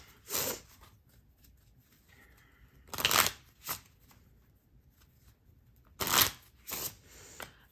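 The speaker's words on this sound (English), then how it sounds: "We'll shuffle a bit." Playing cards being shuffled in several short riffling bursts, separated by quiet pauses, close and crisp.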